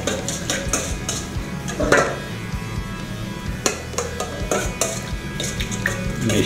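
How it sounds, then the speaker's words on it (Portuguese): Ceviche ingredients of salt, chopped coriander, onion, chili and lime being stirred in a bowl, close clinking and scraping of a utensil against the dish in uneven bursts, with no talk. "Mexemos para harmonizar os ingredientes"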